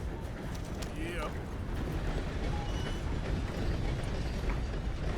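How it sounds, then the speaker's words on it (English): A steam train passes in the Red Dead Redemption 2 video game, making a continuous loud rumble with mechanical clanking and ratcheting and a brief whistle-like sweep near the start. "So here goes a train."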